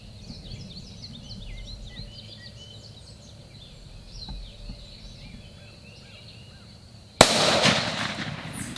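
A single sharp, loud shotgun blast fired at a turkey during a Pennsylvania hunt cracks out near the end and rings into a broadband wash, following a long stretch of quiet outdoor ambience with distant bird calls.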